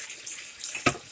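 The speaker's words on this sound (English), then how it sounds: "Now we're going to give this a little rinse." Water from a tap runs briefly into a kitchen sink to rinse a pot lid, a soft close hiss with a small splash near the end and no talking.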